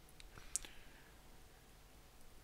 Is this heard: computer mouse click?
yes